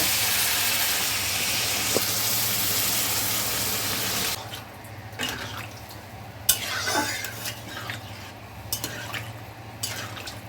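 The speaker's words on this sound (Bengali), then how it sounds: "এবার আমি জল দেব।" Water is poured into a pan of fish curry in a kitchen, a steady close pour that stops, followed by scattered clinks and stirring sounds.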